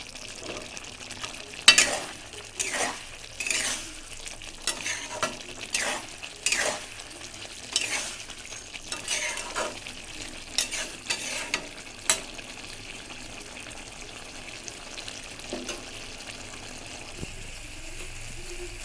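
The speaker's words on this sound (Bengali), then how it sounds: "উপর থেকে আমি আরেকটু ভাজা মশলা দিয়ে দিচ্ছি।" Spices for a pickle being stirred and fried in a pan in a home kitchen, with repeated scraping strokes over a soft, steady sizzle, close and fairly loud, with no talk.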